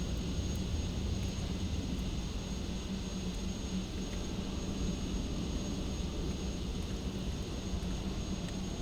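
Beechcraft King Air C90 GTX turboprop engine runs in Microsoft Flight Simulator, a loud, steady droning roar with a constant whine on top, unbroken throughout.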